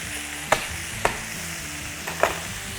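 Pieces of rabbit browning in a hot frying pan, a steady soft sizzle broken by three sharp clicks of a utensil striking the pan.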